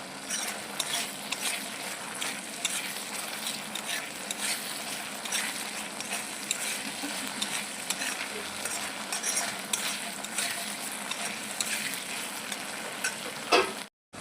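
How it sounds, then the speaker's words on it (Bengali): Continuous stir-frying of mustard paste in hot oil, a dense crackling sizzle with constant scraping of a spatula against the pan, close and steady throughout, ending abruptly. "সরষাটা তেল না ছাড়া পর্যন্ত কষিয়ে যেতে হবে।"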